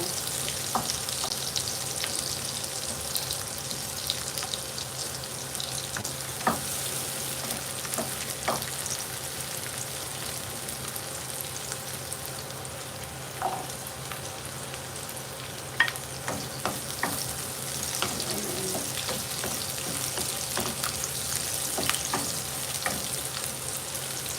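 Pancit canton noodles fry in a pan as a little broth is added, making a steady close sizzle with scattered soft scraping and stirring clicks throughout and no talking.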